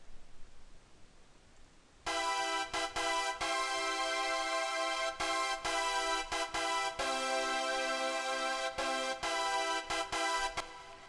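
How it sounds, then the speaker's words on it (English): Brass chords played in FL Studio, sustained stacked tones entering after two seconds of quiet and repeating in short held blocks with brief gaps. "I started off with another brass and I played it in chords."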